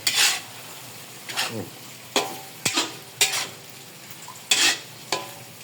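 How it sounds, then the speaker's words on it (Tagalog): Pork liver dropped into a hot, oiled pan for dinuguan, giving brief bursts of sizzling and spattering with clinks of a spatula against the pan, repeated several times. "Lalagay naman natin ngayon yung atay."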